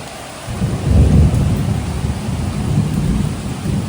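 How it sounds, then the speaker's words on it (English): Heavy rain pours steadily outside during a storm in El Salvador, a dense continuous roar with low rumbling swells, loud and close, with no voices. "it's really raining out there. I mean, you can hear it."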